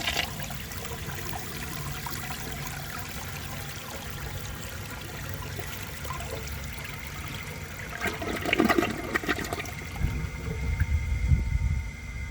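A 1973 Eljer Emblem toilet flushing a grocery bag, with steady rushing and trickling water throughout that swells into a louder gurgling surge near the end, heard close with no talking.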